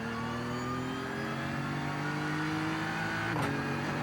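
A BMW M4 GT3 race car engine holds steady at full throttle in fourth gear on the Nordschleife, a loud, continuous droning roar with rising harmonic tones and a brief rasp near the end, with no voices.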